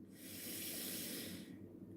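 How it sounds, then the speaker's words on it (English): One slow, deep inhale drawn through the nose during a guided breathing exercise, a soft airy hiss that swells then fades, faint and close with no talking. "Breathing in, let it go."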